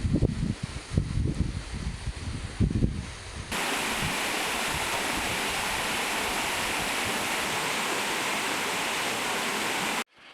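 Creek water rushes in the backcountry with a loud, steady, broadband flow that starts abruptly after a few seconds of low thumping and handling noise, then cuts off at the end.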